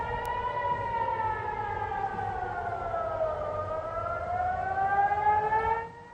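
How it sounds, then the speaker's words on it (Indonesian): A civil defense warning siren wails over Tel Aviv, a steady distant tone sliding slowly down and back up before cutting off, heard alone without talk. "Sirene peringatan ini berbunyi pada pagi hari"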